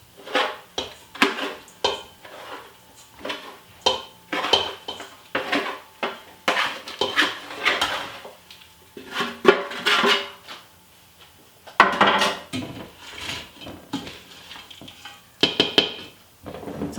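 Crumbled cornbread tipped into a large pot and stirred, giving repeated clinks and scrapes of a utensil against the pot in uneven bursts, fairly close and moderately loud, with no talking.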